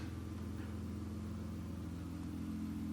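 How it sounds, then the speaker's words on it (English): A car engine running steadily right after being started, a smooth low hum with a faint whir on top, even and fairly quiet throughout with no talking. "Got the car started."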